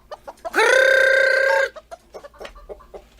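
A rooster crows loudly and up close for about a second, a long harmonic call, followed by short, scattered clucks from chickens that are fainter.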